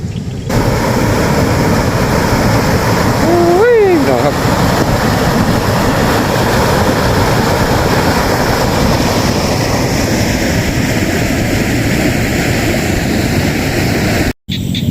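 Water rushes steadily at a waterfall beside a fishing spot in Tha Khantho, Kalasin, a continuous loud broadband roar, with a brief whistling tone early on and wind buffeting the microphone.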